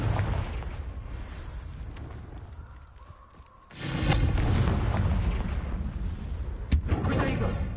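Explosive booms and bursts from spellcasting combat in the video game Hogwarts Legacy, a heavy blast erupting midway and continuing as loud rumbling, with a sharp pop near the end, mixed with shouted voices.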